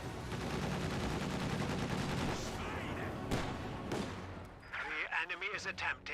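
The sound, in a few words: gunfire between rifle squad and grenadiers, from video game Company of Heroes 2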